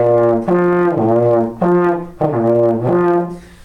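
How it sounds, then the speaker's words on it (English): A trombone plays a short lip slur figure with the air pulsed at each note, so the tone swells and dips in three choppy groups rather than flowing smoothly. It is loud and close, with no talking. "Some students oftentimes want to pulse their air at each note or stop their sound between notes."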